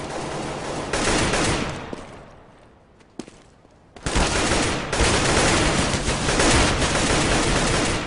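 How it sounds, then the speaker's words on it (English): Dense Counter-Strike gunfire from a competitive match: loud automatic bursts that thin to a brief lull with a single sharp shot, then resume as a sustained, heavy volley. "As Uzi goes huge there, picking up 2 instant headshots"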